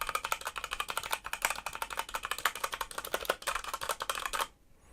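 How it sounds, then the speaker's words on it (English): A particularly loud computer keyboard clatters in rapid, continuous typing picked up by a lavalier mic, dense overlapping key clicks for over four seconds before stopping abruptly, with no speech. "This is actually a particularly loud keyboard, so this is what it sounds like with the lavalier mic."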